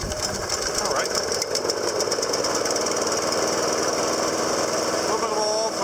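A Snapper lawn mower, model FRP2167517BV, runs steadily with a throttled engine drone and rattling clatter, close by, with someone talking over it.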